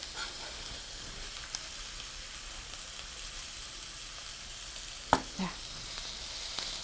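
Sliced mushrooms about 2 mm thick pan-frying, a steady moderate sizzle with a single sharp clack near the end and a brief spoken word.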